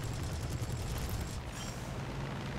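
Cannons on an F4U-1c Corsair fire at long range in War Thunder, a dense, continuous roar of rapid shots that stays loud and steady throughout.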